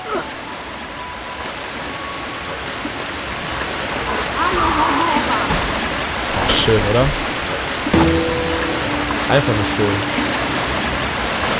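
A steady broadband rush of water from a waterfall inside a dripping stalactite cave in the 2001 Harry Potter and the Philosopher's Stone PC game, continuous and loud, with a voice speaking briefly over it.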